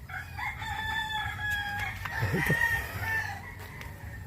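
Chickens crow and cluck nearby, with a drawn-out rooster call and scattered short clucks over a quiet outdoor background.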